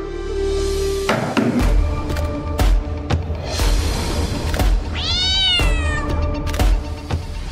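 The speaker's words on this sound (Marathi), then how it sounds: "मांजर." A cat gives one clear, rising-and-falling meow midway through, set against indoor thumps and a steady low room hum.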